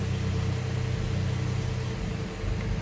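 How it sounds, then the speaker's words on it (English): A Nissan 620 truck's Z24E engine idles roughly and unevenly, a steady low rumble with a faint hum running throughout, heard close and without talk. "This is about as good as it idles at this point"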